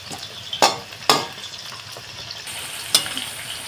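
Sliced onions fry in a pan for beresta, a broad steady sizzle with a few sharp clinks and scrapes of a utensil against the pan, close and fairly loud, no voices.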